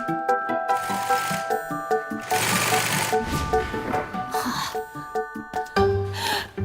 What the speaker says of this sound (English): It's time for the back wall to be stitched.